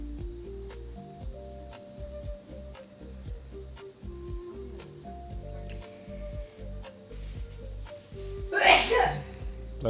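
A single loud, sharp sneeze bursts out near the end of a stretch of background music, close by and clearly louder than everything around it, in a room during a live day-trading session.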